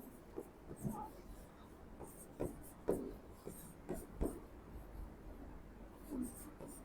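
Chalk or marker tapping and scraping on a teaching board in a Hindi grammar class, a string of soft separate strokes over a quiet room with faint background noise.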